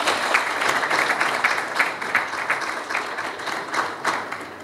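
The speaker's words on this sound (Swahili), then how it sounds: "Makofi mengi sana." An audience claps in a sustained round of applause, steady and fairly loud, with some individual claps standing out in a loose rhythm.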